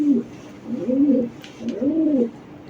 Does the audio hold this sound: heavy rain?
no